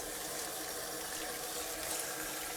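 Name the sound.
rinsing cucumbers under running tap water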